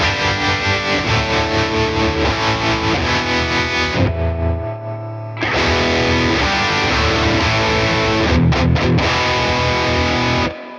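An electric guitar runs through channel 2 of a Tone King Imperial preamp pedal, loud and distorted, with sustained chords, a brief quieter low break midway, then full strumming again.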